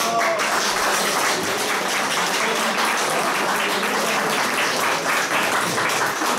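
Sustained applause from an audience at an awards ceremony, a dense steady clatter of many hands clapping continuously throughout, with faint voices mixed in underneath.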